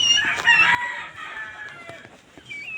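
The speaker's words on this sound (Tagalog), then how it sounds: "Pabo din yan, oh. Pabo din." A turkey on a farm gives a short, loud, crowing-like call near the start, followed by quieter clucking and fowl sounds at close range in an open outdoor setting, with no talking.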